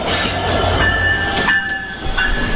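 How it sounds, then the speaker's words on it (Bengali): Sundarban Express passenger train, hauled by an American-built locomotive, arriving at a station: a loud, steady rolling rumble with sustained ringing tonal whistles. No one speaks. "ফাইনালি সুন্দরবন এক্সপ্রেস ট্রেন আসতেছে যেটা আমেরিকান লোকোমোটিভ"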